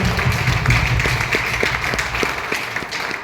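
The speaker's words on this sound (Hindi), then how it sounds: "एक बार जोरदार ताली करें।" Loud, sustained audience applause in a seminar hall, greeting the founder of The Creator, with many hands clapping in a dense wash and a few sharper individual claps standing out near the microphone.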